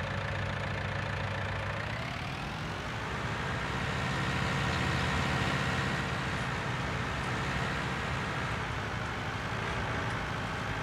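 Tractor engine in Farming Simulator 19 running steadily with a continuous mid-low drone, pitch shifting around two seconds in, then holding a constant hum with no talking.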